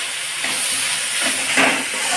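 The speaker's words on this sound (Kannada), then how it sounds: "ನೋಡಿ ಈಗ ಇದು ಚೆನ್ನಾಗಿ ಫ್ರೈ ಆಗಿತ್ತು" Ginger garlic paste and noodles fry in a hot pan, giving a loud, continuous sizzling hiss that swells slightly near the end, with no talking over it.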